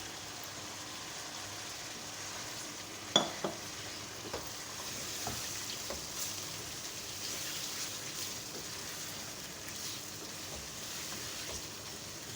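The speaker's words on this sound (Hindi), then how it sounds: "चिकन को अच्छे से फ्राई करेंगे जब तक इसका कलर चेंज नहीं हो जाता।" Half a kilo of chicken frying in a pot of cooked masala for a chicken and green beans curry, a soft steady sizzle with a few sharp clicks and scrapes of stirring, no voices.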